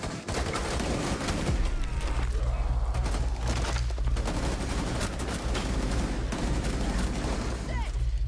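Steady video-game gunfire rattles nonstop in rapid bursts under a constant low hum, loud and close, with someone talking over parts of it.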